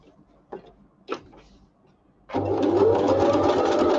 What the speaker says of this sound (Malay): guna mesin jahit jenama apa? Okey, yang ini jenama brother